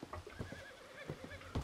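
A horse in the video game Red Dead Redemption II neighs with wavering whinnies amid a few hoof clops, brief and moderately close, with no talk over it.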